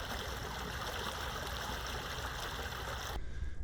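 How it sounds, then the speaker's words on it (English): A small creek runs past a campsite in a public park. Its water makes a steady, close, broadband rushing that carries on without a break, then cuts off sharply just before the end. "a cool little creek that runs by it"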